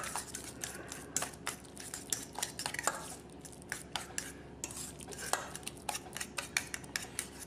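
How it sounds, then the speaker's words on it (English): A utensil clinks and scrapes against a bowl while avocado deviled egg filling is mixed, with irregular quick taps and stirring scrapes, close and fairly quiet with no talking. "Now I'm going to go ahead and just mix all those ingredients up here"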